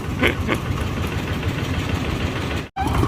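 A vehicle engine idling before driving off, giving a steady, loud, close rumble with a faint knocking pulse that cuts out abruptly for a moment near the end, then resumes.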